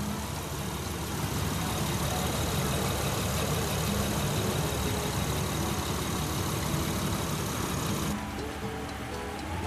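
A 2007 Honda Elysion Prestige seven-seater with a 3.5-litre VTEC V6 idles in a smooth, even, moderately quiet hum that stays steady throughout with no voices.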